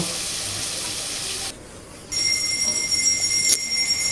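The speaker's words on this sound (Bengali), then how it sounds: "এবার ভালোভাবে ভেজে নেব, একটু হালকা বাদামি কালার হওয়া পর্যন্ত অপেক্ষা করব।" Sliced onions frying for chicken do pyaza: a loud, steady hiss of sizzling oil that drops away briefly, then resumes close and continuous, with no speech.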